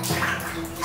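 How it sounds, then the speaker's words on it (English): Used motor oil being dumped down a storm drain makes a brief, close, watery gush and gurgle lasting under a second. "Stop dumping that used motor oil."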